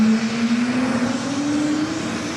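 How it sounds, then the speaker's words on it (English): A JetBlue Airbus A321 takes off at JFK airport, its jet engines giving a steady, fairly loud roar with a faint rising whine. "Next takeoff is JetBlue Flight 423 heading back to LAX and A321."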